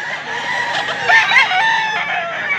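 Cockfighting roosters at a sale in Mantalungon, Cebu crow and cluck close by, one bird's crow rising over steady clucking, with no talk.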